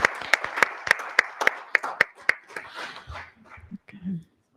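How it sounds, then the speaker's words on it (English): An audience at a school board meeting applauds honorees, sharp distinct claps from a modest group that thin out after a few seconds, followed by murmured voices as the clapping fades. "do you mind if we just applaud for all of these wonderful individuals?"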